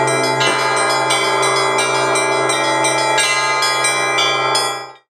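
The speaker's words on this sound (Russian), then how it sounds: "фестиваль колокольного звона «Благовест у моря»" Church bells peal loudly and continuously at a bell-ringing festival on a theatre square by the sea in Anapa, Russia, several bells of different pitches overlapping with bright clangs and a deep sustained hum.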